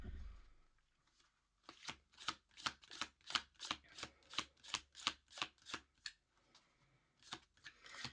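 Tarot cards shuffled by hand, a quick even run of about fifteen crisp riffling flicks, then a short pause and a few more, close and clear with near silence around them.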